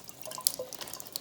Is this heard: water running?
yes